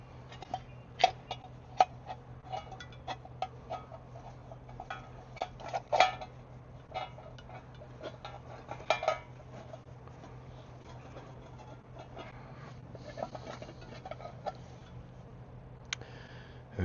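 A small metal tin holding char cloth is handled, producing many light, irregular metallic ticks and taps over a steady low hum, close but quiet, with no speech.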